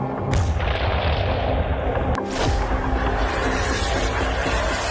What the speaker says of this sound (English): The video footage of the airstrikes near Kyiv suggests that Russia has begun to bomb areas